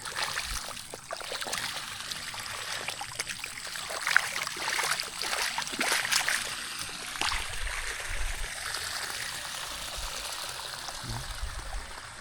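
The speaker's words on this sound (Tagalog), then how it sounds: "Lakas talaga ang tubig galing sa taas." Strong water flowing down from higher ground into a rice field, a steady rushing and trickling wash that fills the clip with no talk.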